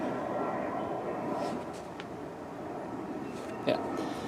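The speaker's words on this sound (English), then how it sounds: "there's a plane going over." An airplane passes overhead outdoors during bloodhound tracking training for wounded deer, a steady, broad, distant rumble that fills the whole stretch at an even level, with no talking.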